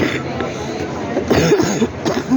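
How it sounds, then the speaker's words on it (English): A person's cough from a dry throat strained by yelling, set against the murmur of a crowd at an outdoor rally in Adelaide's Rundle Mall; short throaty bursts sit close over steady background chatter. "excuse my cough"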